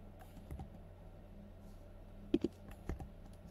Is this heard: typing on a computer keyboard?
yes